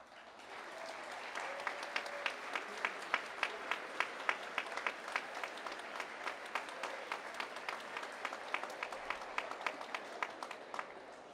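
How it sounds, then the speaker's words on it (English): Graduates at an OSU IT summer commencement applaud their friends and family: steady crowd clapping with dense, evenly spaced sharp claps throughout, fairly near, with a faint voice briefly audible early on. "Let's let the graduates give you a round of applause"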